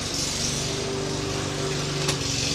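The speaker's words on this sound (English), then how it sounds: "I think it's that lawnmower aggravating me" A steady engine drone of a lawn mower runs throughout, loud and continuous with a constant hum and no breaks.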